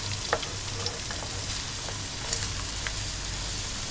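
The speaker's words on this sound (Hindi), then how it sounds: "इसके लिए मैंने आधा कप ऑयल लिया, उसको गरम किया। अब इसमें प्याज डालें।" Onions sizzling in half a cup of hot oil for a bhindi cholay masala, a loud steady crackling fry close up with small pops, no voices.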